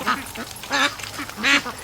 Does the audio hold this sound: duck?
yes